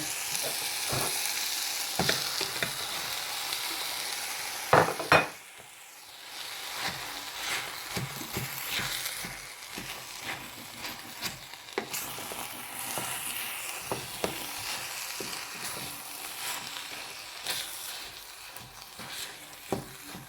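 Corned beef fries in a pan with a steady, soft sizzle, punctuated by occasional stirring clatters and scrapes, with no one talking.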